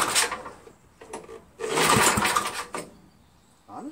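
A Tecumseh 6HP engine on a Jacobsen Imperial 26 dual-stage snow blower turns over under repeated pull-start attempts, giving bursts of sputtering, churning noise separated by pauses, close and fairly loud.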